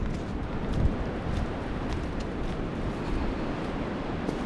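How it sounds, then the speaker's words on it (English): Steady broadband rush of a river flowing beside a forested campsite at Virgin Falls State Natural Area in Tennessee, continuous and moderately near with no voices. "I mean, you can hear the river from here."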